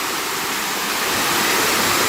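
Beema Falls in the Javadhu Hills pours down from a height, a dense, continuous roar of falling water, close and loud, steady throughout with no voices.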